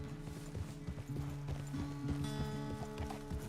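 Horse hooves clip-clopping at a walk in Red Dead Redemption 2, a steady close rhythm of clops with some game ambience and no talk over it.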